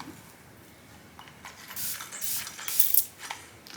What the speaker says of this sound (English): this is essentially a continuous flow spray bottle